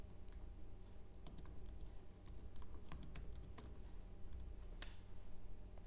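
Keys clatter in short irregular bursts as someone types on a computer keyboard on a Windows 11 PC, the clicks close, fairly faint and steady over a low background hum, with no one speaking.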